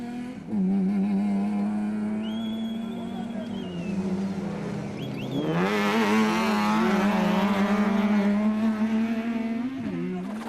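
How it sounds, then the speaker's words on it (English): Toyota Hilux rally trucks racing in a 2009 cross-country rally, their engines droning steadily up close before a sharp surge of revving partway through that holds loud to the end. "Evans, who in turn were being chased by Hugo and Jaap de Bruyn in the Mickelin XL Toyota Hilux"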